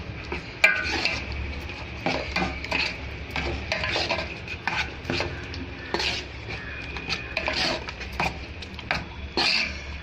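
Spices tempered in hot oil for a tomato pickle, giving a steady close sizzle with repeated stirring scrapes and clinks of a utensil against the pan; no talking.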